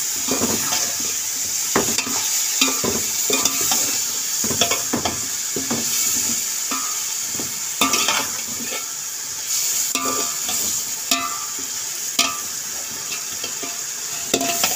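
Potatoes and peas stirred and frying in a pan for matar pulao, with a steady close sizzle and repeated scraping and clinking of a spoon against the pan throughout.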